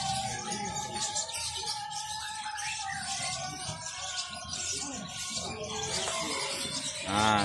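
Caged birds at the Pramuka bird market, including albino zebra doves, chirp and coo in a dense, continuous chorus of overlapping calls and market bustle, with a brief louder burst near the end.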